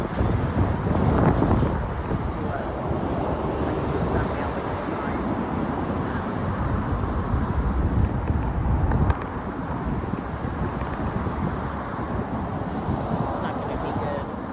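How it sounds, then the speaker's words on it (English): Steady low rumbling wind buffeting the microphone outdoors on Ventura Boulevard in Studio City, Los Angeles, continuous and loud throughout, with faint traffic noise beneath. "So windy."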